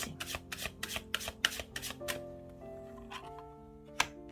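Tarot cards are shuffled in quick rhythmic bursts of papery riffling, followed by softer slides and a sharp snap as cards are drawn, close and fairly quiet over soft background music.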